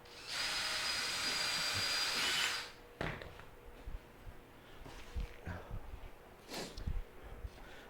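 Power drill boring holes in fresh deck wood for a DIY micro teardrop camper, a steady high whine for about two seconds that cuts off, followed by quiet handling clatter and knocks.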